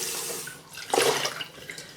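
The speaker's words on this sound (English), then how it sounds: "Let's swish this glass." Water swishes inside a glass of water kefir, a quick liquid slosh rising to a brief splashy peak then fading, close and moderately loud with no talk.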